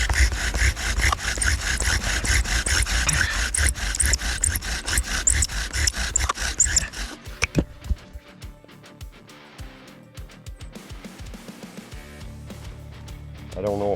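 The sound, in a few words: bow drill rubbing wood to start a fire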